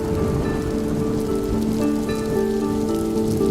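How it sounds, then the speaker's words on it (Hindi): Rain falls steadily in a dense, even patter on surfaces, continuous and fairly close, with some sustained tonal hum running underneath and no voices. "एक दिन बारिश हो रही थी।"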